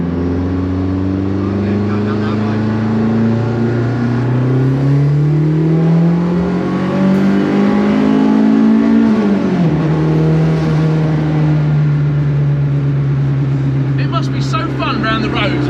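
A Mini Clubman with a swapped-in 1.8T K-series engine revs up close, its pitch sweeping upward, peaking, then dropping back to a steady drone, with people talking over it throughout.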